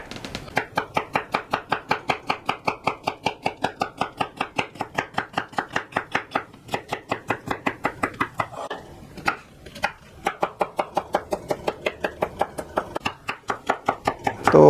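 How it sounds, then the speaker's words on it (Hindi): A knife chops an onion on a cutting board in quick, regular strokes, a long run of sharp close taps with a short pause midway before the rapid chopping resumes. "तो दोस्तों ये 1 अदद हमने जो प्याज आपको बताया था ये भी काट लेते हैं।"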